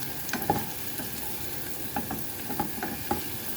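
Garlic fries in a pan over a strong flame, giving a steady close sizzle broken by several irregular scraping clacks of a utensil stirring it.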